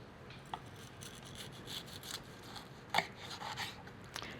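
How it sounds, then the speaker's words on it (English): A knife slices through roasted meat chops with soft rasping, sawing strokes and faint scrapes against a board or tray, a quiet close-up cutting sound with a few light taps. "It should slice nicely right through."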